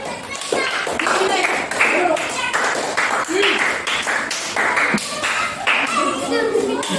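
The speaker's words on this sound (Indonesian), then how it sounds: "tepuk tangan untuk kelompok yang duluan" Students in a classroom clap in a brisk rhythmic burst for the first group, sharp close claps repeating under chatter and children's voices.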